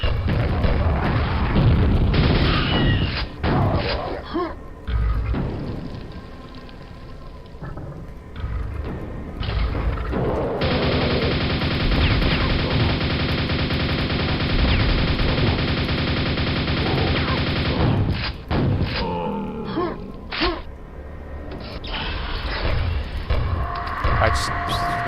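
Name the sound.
grenade explosions in Quake video game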